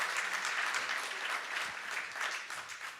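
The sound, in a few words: applause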